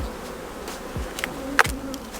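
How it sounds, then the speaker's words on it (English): A soft, continuous hum of a honey bee colony of many bees buzzing together, steady and low, with a few faint clicks and knocks nearby. "how many bees are probably in this colony now?"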